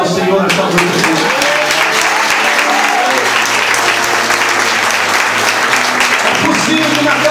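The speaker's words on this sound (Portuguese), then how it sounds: "Você pode aplaudir ao Senhor nesta noite." Loud, sustained applause from a church congregation during an evening sermon, a dense wash of clapping filling the whole stretch with a little crowd noise beneath.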